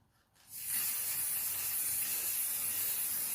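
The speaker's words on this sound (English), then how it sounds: "I'm just going to give it a spray" Clear lacquer sprayed from an aerosol can onto a Christmas table centrepiece, a steady close hiss that begins after a short quiet lead-in and holds evenly to the end.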